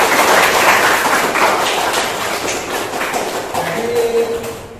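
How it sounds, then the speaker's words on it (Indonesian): A classroom group clapping for a student during a counseling lesson, a dense broadband patter of many hands that stays steady and loud across the whole stretch before easing slightly at the end. "Tepuk tangan untuk Bagi."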